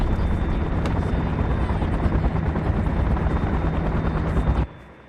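Steady, loud helicopter rotor drone from a helicopter testing factory in a LEGO City cartoon, a dense continuous roar that cuts off abruptly near the end, with a faint voice underneath.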